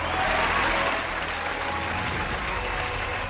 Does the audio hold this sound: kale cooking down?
no